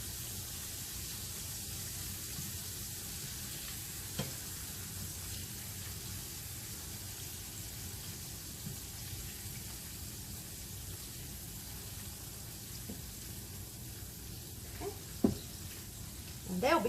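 Meatloaf meatballs browning in a frying pan, a steady close sizzle and hiss running throughout, with a few soft utensil taps and a louder scrape near the end.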